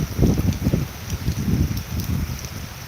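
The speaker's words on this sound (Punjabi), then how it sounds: "ਮੀਂਹ ਪੈ ਗਿਆ ਸਾਜਰ ਸਾਜਰ" Morning rain falling outdoors, a steady soft wash of drops with gusty, rumbling low patter throughout, fairly close and moderately loud with no voices.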